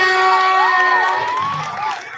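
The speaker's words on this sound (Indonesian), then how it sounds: "Tepuk tangannya mana buat Nasya." A burst of children's cheering and shouting with a crowd at a primary school Isra Mi'raj preaching contest, loud and close, fading slightly toward the end.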